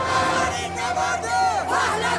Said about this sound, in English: the cries for freedom grew louder